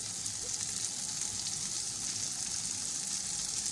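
Bajra roti cooking on a hot griddle with butter on its edges, giving a steady, soft sizzle and light frying hiss that runs evenly throughout without any talking.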